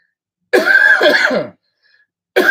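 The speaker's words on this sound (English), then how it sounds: "sorry about the cough" One rough, harsh cough lasting about a second, close and fairly loud, then silence before another cough starts.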